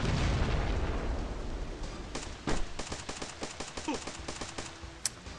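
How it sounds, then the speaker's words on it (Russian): A grenade blast in the mobile video game Team Six, a loud rumbling explosion fading out, followed by a spatter of sharp gunshots and scattered cracks of combat. "Ну давай на всякий случай гранатку кинем."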